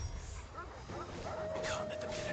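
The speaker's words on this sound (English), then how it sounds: "Wolves." Wolves in Final Fantasy XVI growl and yip in short bursts, mixed with game music and character voices speaking over the action.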